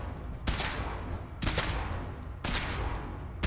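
Heavy weapon fire during a power armor suit test in Fallout 4: three loud, broadband bursts about a second apart, each a sustained roaring blast that holds until the next, with no talk.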